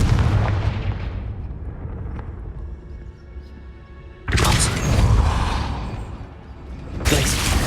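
A Confringo blasting spell in Hogwarts Legacy goes off as a heavy explosive boom with a long rumbling decay, then a second sharp blast bursts out and a third hit starts near the end, loud and close with no talking.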